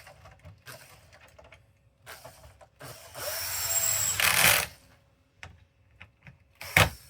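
A power screwdriver with a special bit works on a PS5 Slim during an HDMI repair, whirring in one short burst of about a second and a half between quiet clicks and handling taps.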